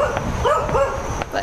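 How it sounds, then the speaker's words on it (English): A puppy barks and yips close by in short, high, excited bursts, with a faint whimper mixed in. "You're gonna keep barking, I see."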